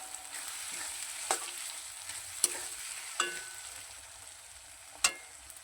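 Ginger paste frying gently over a low gas flame in a pan, a soft steady sizzle broken by four sharp clicks of a spoon scraping the pan, close and alone with no talk.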